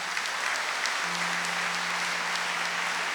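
Congregation applauding at a Catholic Mass, a steady, dense wash of clapping that fills the church evenly throughout, with a faint sustained low tone from the sound system underneath.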